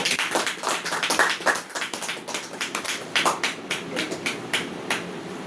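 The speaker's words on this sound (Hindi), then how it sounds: "जोरदार ताली बजाएंगे प्रेम बेटे के लिए" An indoor gathering breaks into loud, sustained applause for a young boy named Prem, dense overlapping hand claps continuing steadily throughout without talk.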